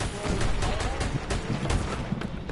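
Rapid gunfire in a shooter video game, dense repeated shots in a loud continuous barrage with no break, close and heavy throughout.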